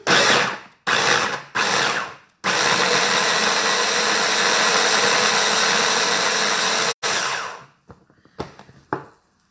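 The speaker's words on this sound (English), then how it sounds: "I'm going to blitz this up now" A blender roars in loud bursts: a few short pulses, then a long sustained whir, stopping abruptly, with brief restarts trailing off at the end.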